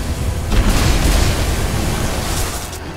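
A loud, sustained grenade explosion in the video game Magicka roars through the clip: a heavy boom followed by dense rumbling blast noise, with no voices.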